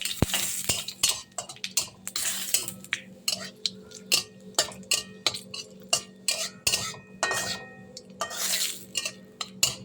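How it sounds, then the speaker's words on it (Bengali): A spatula stirs bay leaves and cumin seeds tempering in hot oil for a vegetarian papaya and potato curry, making close, repeated scraping strokes and light metallic clinks against the pan over a faint background sizzle. "এটাকে একটু নাড়াচাড়া দিয়ে একটু লাল লাল করবো"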